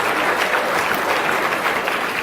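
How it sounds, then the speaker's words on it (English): Steady applause fills a hall as a crowd at a leadership seminar claps on request, an even, continuous wash of many hands at moderate distance with no break. "Come on, clap."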